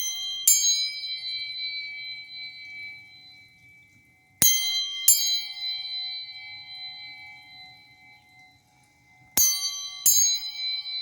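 Chakra chimes for the root, heart and solar plexus, struck in spaced pairs, each bright metallic strike ringing on and slowly fading in a quiet room.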